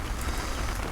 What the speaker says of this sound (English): We've had rain every day. You see, we've got a bit of a shower now.